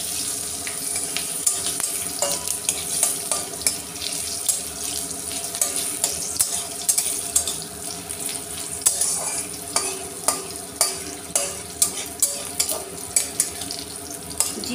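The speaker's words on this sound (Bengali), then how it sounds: "জিরে তেজপাতা কাঁচা লঙ্কা সুন্দরভাবে ভাজা হয়ে গেছে" Cumin, bay leaf and green chillies frying in oil for a Bengal-style katla fish curry with cauliflower and potato, a steady close sizzle with repeated sharp clicks of stirring and spattering throughout.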